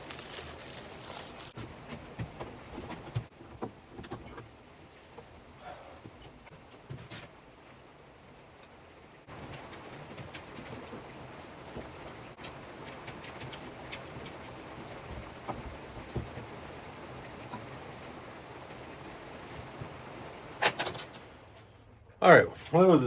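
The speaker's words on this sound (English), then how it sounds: "It's raining pretty good now." Heavy rain falls outdoors on a rural property, making a steady, close hiss that runs throughout, broken by occasional knocks and thumps, with a person talking at times.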